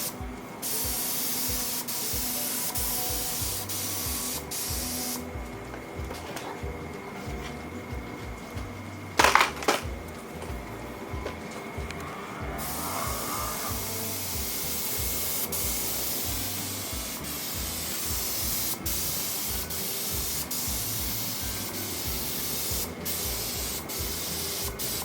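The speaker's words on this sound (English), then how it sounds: "Big deal about spraying paint is keeping the same distance, the same speed," Paint sprays from a spray gun onto an old-school hot rod race car, a continuous close hiss broken by short pauses and one sharp knock near the middle, with no talking.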